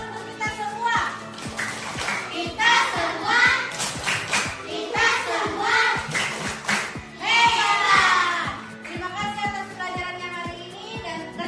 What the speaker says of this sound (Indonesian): Kita tepuk hebat untuk kita semua.